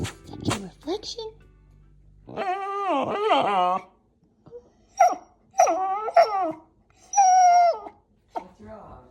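A puppy whimpers and whines at its own reflection in a door, several drawn-out, wavering high cries close by in separate bursts, with a little talk at the start.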